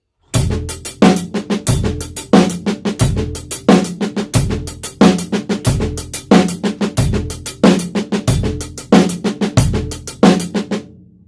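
Drum kit running a paradiddle groove at a quicker tempo, dense rapid strokes with regular louder accents, loud and close, played alone.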